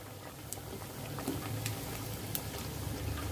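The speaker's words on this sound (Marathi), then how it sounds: "असे लालसर रंगावर छान क्रिस्पी" Sabudana vadas deep frying in hot oil, a steady close sizzle and bubbling with small pops, continuous and alone.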